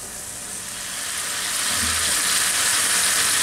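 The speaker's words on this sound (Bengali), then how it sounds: "এখন এইটাকে মিনিট খানেক, মিনিট 2 ভুনবো একটু।" Rui fish with spices frying in a pan over a high flame, a steady close hiss and sizzle that slowly swells in loudness, with no talking.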